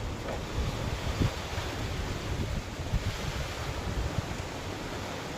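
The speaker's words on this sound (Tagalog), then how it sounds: "Ang lakas pa naman ng hangin." Strong wind roars in a steady, dense rush buffeting the microphone, with low thumps and gusts rising and falling throughout, and no talk over it.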